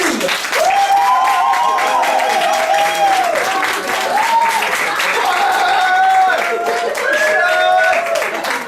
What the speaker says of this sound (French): Donc on applaudit bien fort le groupe Black Rock Shooter et Vocaloid.